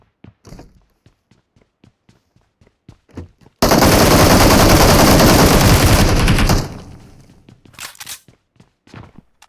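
Rapid sustained burst of automatic gunfire from a PUBG match, loud and continuous for about three seconds, framed by sparse individual shots, thumps and footsteps before and after.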